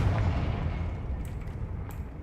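A Confringo blasting spell goes off in Hogwarts Legacy, a heavy low rumbling blast that carries through the whole moment, with a few brief crackling bursts near the end.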